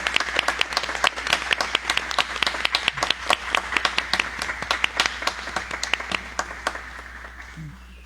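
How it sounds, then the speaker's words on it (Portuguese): A church congregation applauds a choir during a worship service: dense, continuous clapping from a crowd that thins and fades toward the end. "Convido a darmos uma salva de palmas"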